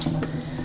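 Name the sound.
water emptied from a Bosch Tassimo coffee machine tank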